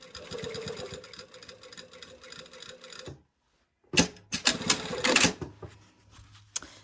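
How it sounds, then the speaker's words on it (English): Sewing machine stitching up to a pocket flap, with a steady rapid run for about three seconds, then silence, then short loud bursts of backstitching close by. "So I'm gonna sew right up to that pocket flap and backstitch."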